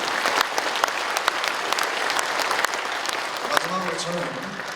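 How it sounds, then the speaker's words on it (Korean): An audience at a welcoming address gives sustained applause honoring world leaders, a dense, even roar of clapping with a few sharper claps standing out and a voice emerging near the end. "여러분 이분들을 위해서 큰 박수를 한번 주시면 되겠습니다"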